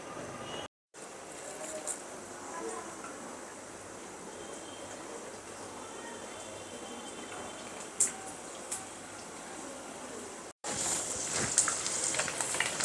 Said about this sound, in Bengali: সরষের তেলের বলক এসে গেছে